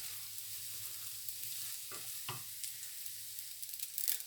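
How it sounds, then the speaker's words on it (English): Rice frying in a pan while being stirred for Mexican-style arroz, a steady soft sizzle with a couple of brief scraping stirs, growing a little louder at the end; no talking. "we're going to hear some more sizzle because we've added new things to our frying pan"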